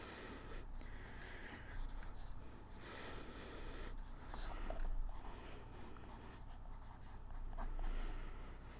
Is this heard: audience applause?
no